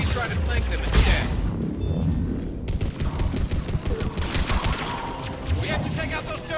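Dense automatic gunfire from Cerberus turrets in the Mass Effect 3 video game, loud rapid bursts running through the whole stretch with explosive booms and mechanical clatter mixed in.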